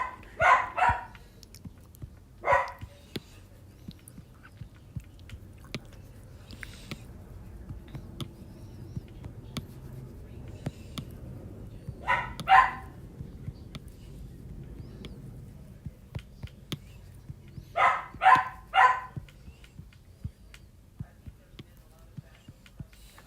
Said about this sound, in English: my dog is going on a tirade now